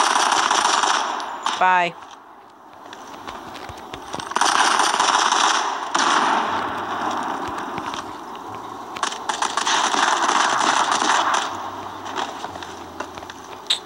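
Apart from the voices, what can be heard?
gunfire in the video game Modern Combat 5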